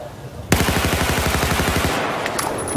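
A tank fires in a video game: a sudden loud burst of rapid, evenly spaced shots rattles on for about two seconds and fades slightly near the end.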